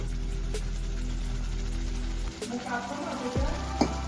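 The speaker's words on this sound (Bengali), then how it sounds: "যতক্ষণ না মশলা থেকে তেল ছাড়বে ততক্ষণ আমি মশলাটা কষাবো" Spice paste with tomatoes cooks in oil with a steady, moderate sizzle that thins out partway through, joined by a few scraping stirs and a sharp clink near the end.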